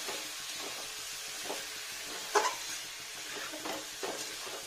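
Rice and bay leaves fry in a pan for chicken polow, giving a steady soft sizzle with a few scraping stirs of the spoon close by.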